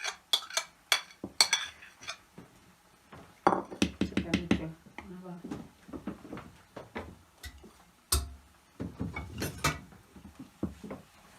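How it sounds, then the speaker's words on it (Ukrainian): A utensil scrapes and clinks against a pot in irregular bursts, stirring thick millet porridge with eggs and poppy seeds, with quiet tapping knocks spread throughout. "Зараз будемо вимішувати."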